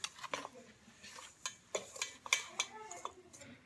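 Baking ingredients, including egg, mixed in a bowl: quiet, irregular clinks and scrapes of a utensil against the bowl in uneven bursts, with faint voices in the background.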